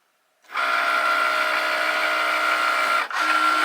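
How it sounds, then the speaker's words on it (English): A Cricut smart cutting machine starts up and runs with a steady, loud mechanical whir and hum, briefly dipping near the end before resuming, no voices present. "The machine is now just searching for that scoring tool to make sure that we've got it in the machine."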